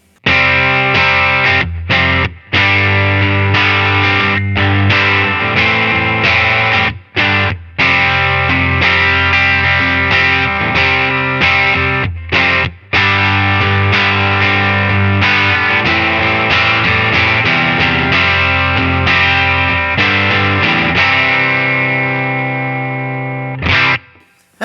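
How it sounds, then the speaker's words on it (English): Electric guitar played through a Line 6 Helix with bridge pickup, straight amp, compressor and a small plate reverb, giving a loud, sustained distorted tone with chords and brief pauses over about twenty-five seconds, fading at the end. "that was bridge pickup, just straight amp, compressor, and just a plate reverb, just a small reverb"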